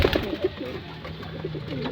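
Pigeons coo softly in a low, repeated murmur, close by, with a steady background hum and no talking.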